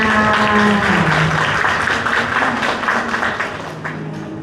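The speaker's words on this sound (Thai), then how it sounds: "ขอเสียงปรบมือด้วยค่ะ" Applause from a crowd at a kindergarten graduation ceremony, a steady wash of clapping that holds through the whole stretch and eases slightly toward the end, with a sustained tone running underneath.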